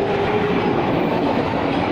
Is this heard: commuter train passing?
yes